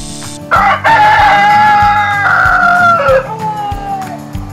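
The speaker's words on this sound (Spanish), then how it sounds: "Gallo." A rooster crows once, loud and close, a long rising then falling cock-a-doodle-doo lasting nearly three seconds with no one talking.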